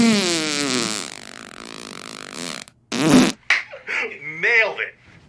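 A long, loud buzzing fart rattles on for over two seconds, followed by several shorter sputtering bursts, close and prominent.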